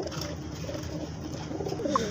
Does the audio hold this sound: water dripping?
no